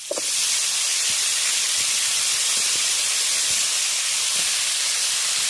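Washed amaranth stalks dropped into hot oil in a village-style kitchen give a steady, loud broadband sizzle and hiss that holds throughout, with a few faint knocks underneath.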